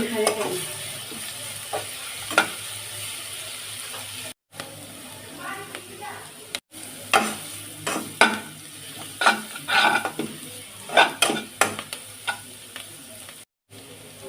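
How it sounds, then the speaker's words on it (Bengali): Chopped carrot and cabbage stir-fried in a hot pan for egg chowmein, with a steady sizzle and repeated scraping, tossing strokes that grow busier toward the end, close and fairly loud. "এরপর আমি একে একে সবজিগুলো দিয়ে নিচ্ছি গাজর কুচি বাঁধাকপি কুচি এগুলো হালকা করে ভেজে নিব"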